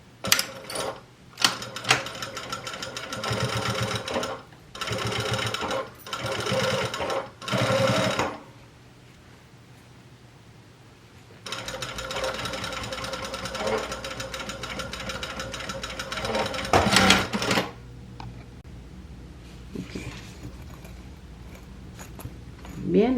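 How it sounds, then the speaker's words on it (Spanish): A sewing machine stitches a fabric pencil case in long, steady whirring runs broken by short pauses, close and loud, with no talking. "entonces vamos a empezar a coser aquí"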